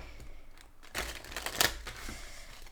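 A deck of tarot cards is shuffled, several quick soft riffles and light taps coming in short bursts, close and fairly quiet, with no voices.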